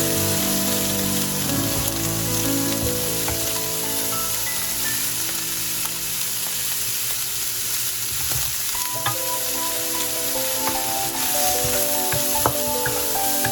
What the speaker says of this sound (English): Stir up the mix for about 2 minutes until the snow peas and baby carrots are cooked.